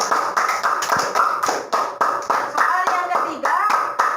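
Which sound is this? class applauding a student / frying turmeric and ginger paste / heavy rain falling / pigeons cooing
class applauding a student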